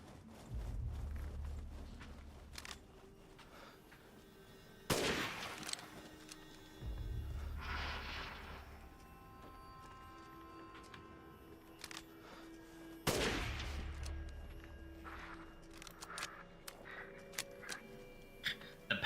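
Unupgraded rifle shots ring out in the video game Resident Evil 8, two sharp, loud reports spaced several seconds apart, each followed by a rumbling tail, over quiet ambient game sound.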